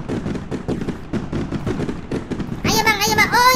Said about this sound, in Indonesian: Nah, ayo kita keluarkan semua kembang apinya.